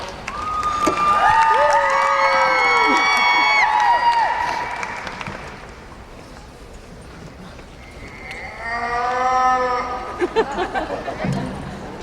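A person imitates a cow's moo in the role of a California Happy Cow, with several long, wavering, pitch-sliding calls up front and another stretch of drawn-out lowing near the end, loud and close with no other talk.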